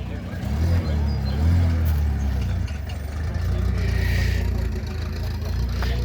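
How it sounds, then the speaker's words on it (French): A Volkswagen Golf GTI pulls in at a retro car gathering, its engine rumbling low and steady with mild revving close by, over crowd noise. "le Golf GTI qui arrive"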